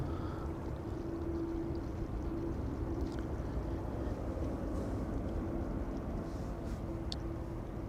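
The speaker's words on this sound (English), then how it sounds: "I think we're even picking up the sound of GE90s starting somewhere on the main platform area." Low, steady jet engine rumble from GE90 engines spooling up somewhere across a busy airport apron, distant and continuous, with a faint whine hanging over the broad roar.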